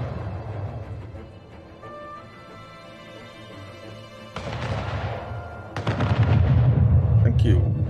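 Ship cannons firing in the Anno 1800 video game during a naval attack, a dense run of booming shots that builds louder toward the end over a continuous low rumble.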